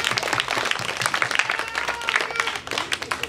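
Dense applause from an audience at a Christmas celebration, a steady wash of many hands clapping for several seconds with cheering voices mixed in.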